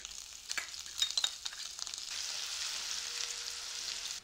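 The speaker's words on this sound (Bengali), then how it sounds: "তেল গরম হয়ে গেছে, গ্যাসের ফ্লেম লোতে রেখে দিয়ে দেব শুকনো লঙ্কা, 1 চামচ 5 ফোড়ন, 4 ভাগের 1 ভাগ হিং।" Dry red chilli, panch phoron, hing and grated ginger frying in hot oil over a low flame for amla pickle, a soft steady sizzle with a few light stirring scrapes early on.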